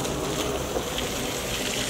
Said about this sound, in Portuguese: Vamos encher um big balão de água.